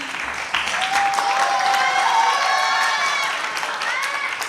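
Audience applause at a school mathematics education talk, a steady wash of many hands clapping that swells after a half-second and holds loud for several seconds, with faint cheering mixed in.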